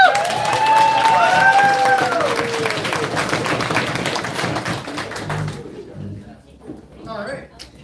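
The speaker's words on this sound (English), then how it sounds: "Give a round of applause to Dennis." Applause from wedding reception guests, loud and sustained at first with whistle-like tones near the start, then thinning out and tapering off toward the end.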